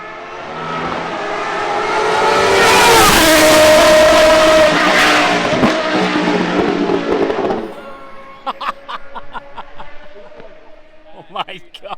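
McLaren Solus GT race car on a track, its engine swelling into a loud high-pitched roar as it passes, then fading away, followed by sharp pops and clatter.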